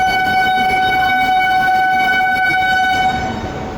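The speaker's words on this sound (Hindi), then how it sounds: "अब सीधा ये ट्रेन कानपुर से निकलने के बाद नई दिल्ली रुकेगी" Heard from inside a crowded general coach of the Sampoorna Kranti Express, the passenger train rumbles along at speed, a loud steady roar of wheels on rails with a sustained horn tone ringing over it.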